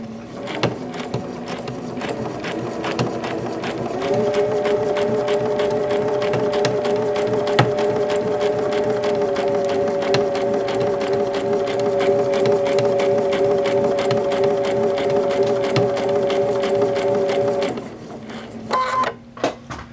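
A combination sewing and embroidery machine runs at speed, a loud, steady motorized whir that ramps up after a slower start, holds for most of the clip, then stops with a few clicks and rattles near the end.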